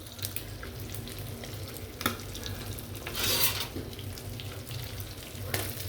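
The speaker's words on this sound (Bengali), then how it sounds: "এখন আমি মাছটা ভেজে ফেলবো।" Hilsa fish frying in a pan of oil for hilsa pilaf gives a steady close sizzle, broken by scraping stirs and a few sharp clinks of utensil against the pan.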